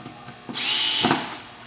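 A power drill briefly whirs as it drives a screw into a pre-drilled hole on a bath display board, a single short burst of about half a second, close and clear.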